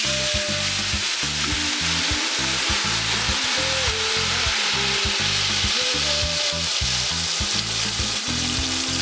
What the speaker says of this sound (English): Warm up your oil and add your chopped tomatoes.